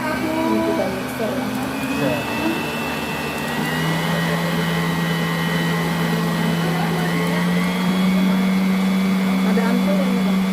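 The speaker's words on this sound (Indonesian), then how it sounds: "Ini kita mixer." Electric hand mixer running at medium speed, beating baking ingredients with sugar and salt, a steady whirring motor hum that shifts pitch partway through, with people talking over it in a kitchen.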